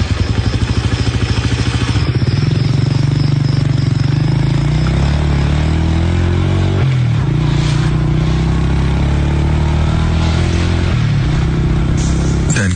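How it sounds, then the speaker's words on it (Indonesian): A motorcycle engine runs loud and close, a steady mid-pitched drone that shifts and revs a few times with a bit of mechanical clatter throughout. "kunyalakan motor dan segera lanjutkan perjalananku"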